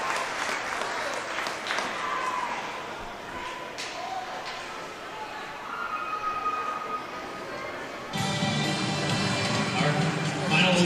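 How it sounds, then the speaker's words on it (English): Swim meet crowd at a divisional finals awards presentation breaks into sustained applause, dense clapping that swells louder near the end, with an announcer's voice over it early on. "Can we have a round of applause for our top 8 finisher, girls?"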